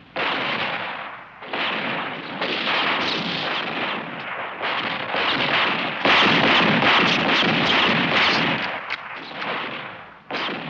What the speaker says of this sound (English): Where did you learn to shoot like that?